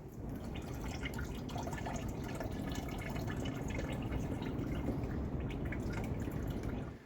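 Water drains in a steady, continuous pour from the radiator of a camper van under restoration, a close, even splashing flow that holds throughout and then stops abruptly.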